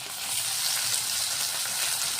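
Onions frying in a pan give a steady, soft sizzle with faint stirring as tomatoes go in for a Maharashtrian zunka, the cooking noise continuous and even throughout with no voices.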